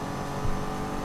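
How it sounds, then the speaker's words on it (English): A racing car in Assetto Corsa passes close by, its steady engine drone swelling briefly at the midpoint of a short, continuous roar of motor noise. "I got a car overtaking us"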